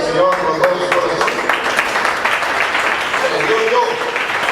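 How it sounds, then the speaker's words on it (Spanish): A church congregation applauds during a Spanish-language sermon, with loud, dense, sustained clapping and voices mixed in throughout. "Dale un aplauso al Señor con todo su corazón."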